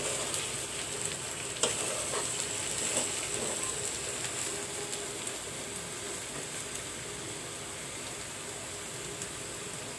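Papaya bhaji cooks in a pan with a soft, continuous sizzle, broken by an occasional scrape or clink as it is stirred.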